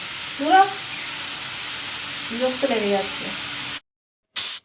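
Food frying in a home kitchen pan, a soft continuous sizzle heard close up with faint clinks and stirring, then a brief silence before the sizzle returns.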